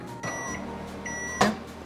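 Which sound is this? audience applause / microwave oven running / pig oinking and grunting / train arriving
microwave oven running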